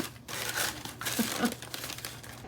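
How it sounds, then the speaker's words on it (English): Paper crinkling and rustling in irregular bursts, close by, as a cat shuffles around inside a cardboard box; no talking. "if you hear that paper shuffling around, it's because this guy right here, he's playing in that Chewy box"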